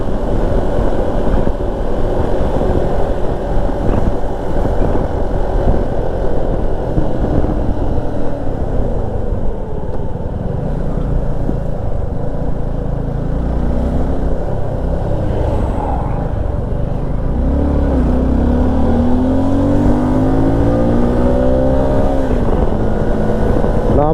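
A group of Honda motorcycles rides past during a national Honda gathering in Klaten, their engines making a steady, loud, continuous rumble that stays close for the whole stretch, with no talking.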